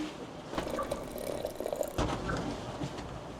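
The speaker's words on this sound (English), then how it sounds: "so let's give her a pour" Buffalo Trace Kentucky bourbon poured into a glass, a short liquid trickle and splash close by, rising and settling in two brief bursts with no talk.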